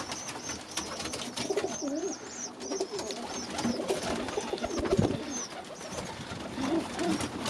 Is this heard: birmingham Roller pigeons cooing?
yes